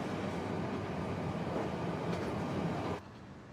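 Steady loud rumble of an RER commuter train running underground beneath central Paris, a continuous rolling roar with faint rail clatter that drops off abruptly near the end.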